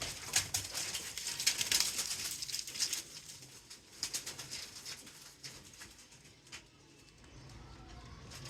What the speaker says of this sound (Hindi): ये अमानदीन कबूतर है।